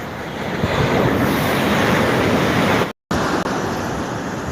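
Sea waves at Puri beach roar loudly and continuously, a dense broadband wash with heavy wind buffeting close to the microphone, broken by a brief dropout.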